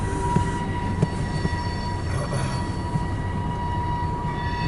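An eastbound CSX freight train passing at Port Huron, a continuous loud rumble of rolling wagons with steady wheel noise and faint squeals, heard without talk.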